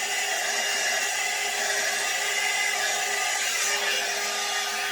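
A hair dryer blows heat onto the bangs of a light blonde synthetic wig, a steady close whooshing roar of fan and air that runs unbroken, with no voices.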